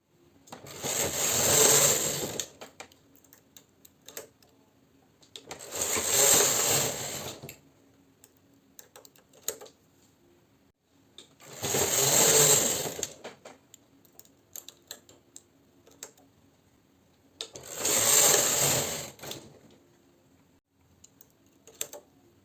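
A domestic knitting machine working plain stockinette with drop-stitch ladders, its carriage pulled across in four even passes of rattling, clicking mechanical noise, each about two seconds long, with quiet pauses and small clicks in between.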